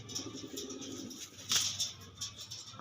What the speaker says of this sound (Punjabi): ਇਹ ਕਬੂਤਰ ਆ